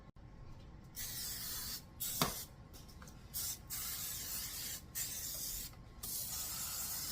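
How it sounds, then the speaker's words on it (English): Repeated short bursts of butter cooking spray hiss close by along the sides of a pan, about half a dozen sprays of varying length separated by brief pauses. "Let me get some butter spray and I'm just going to spray along the sides."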